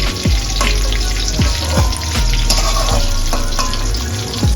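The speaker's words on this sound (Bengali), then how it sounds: "দেখুন পটল আর আলুটা পুরো ভাজা ভাজা হয়ে গেছে।" Pointed gourd and potato sizzle steadily in hot oil, a close and continuous frying hiss with a few low scraping stirs through it.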